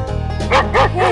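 Cartoonish dog barking from a farm animal stacking game, three quick loud yapping woofs in a row, close and clear over a faint musical background hum.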